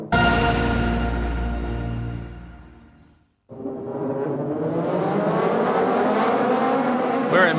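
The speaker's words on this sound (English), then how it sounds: "We're at Motegi for the start of the race." Race cars at the start of a 2006 Super GT race at Motegi, engines roaring loud and steady, briefly cutting out before a fresh wave of revving and accelerating engines swells up close.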